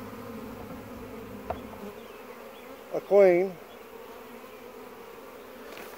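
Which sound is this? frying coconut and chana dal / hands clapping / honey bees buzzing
honey bees buzzing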